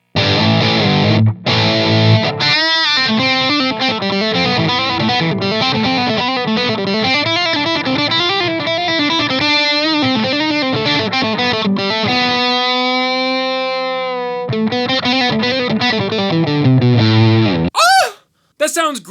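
An electric guitar plays through a small Revv amp on its high-gain channel, a thick, loud distorted tone with riffs and sustained chords that ring out before a short pause and a final stab.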